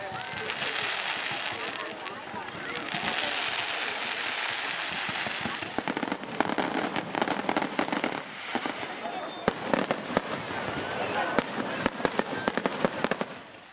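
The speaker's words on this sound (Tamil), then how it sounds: "வான வேடிக்கைகள், வர்ணஜாலங்கள் ஜொலிக்கும் பண்டிகை தீபாவளி." Diwali fireworks and firecrackers explode in a dense run of crackling bursts and sharp bangs that grow more frequent and punchy, with a voice talking over them throughout.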